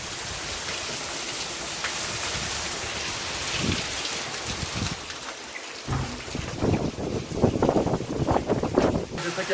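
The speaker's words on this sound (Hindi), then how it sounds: "दिल्ली में काफ़ी उमदा बारिश हो रही है, देख सकते हैं आप लोग, और बारिश के साथ साथ हवा भी चल रही है काफ़ी खतरनाक" Heavy rain pours down in Delhi with strong gusting wind, a dense continuous hiss close by that swells with louder buffeting gusts in the second half; no voices.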